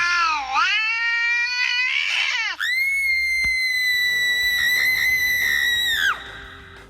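Cat meows and caterwauls in a loud, drawn-out sequence: a wavering yowl dips and rises, then breaks into a long, steady, high-pitched wail that stops abruptly, with no talking.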